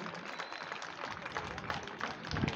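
Steady audience applause at a stage event, a moderately faint wash of many hands clapping throughout, with no voices standing out.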